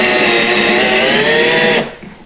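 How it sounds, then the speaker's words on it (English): A power drill bores slowly into a wooden drop-spindle wheel, a loud, steady whining drone that runs continuously for nearly two seconds before cutting off abruptly and leaving faint room noise. "and slowly drill"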